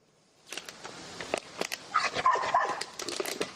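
A German shepherd, wounded at the front in the war in Ukraine, barks repeatedly in short, sharp bursts, with some yips mixed in, moderately close and fairly quiet overall.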